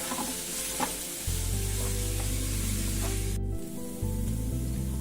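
Onions sizzle and fry steadily in a hot pan, a continuous bright hiss with occasional stirring scrapes, close and fairly loud, with no voices.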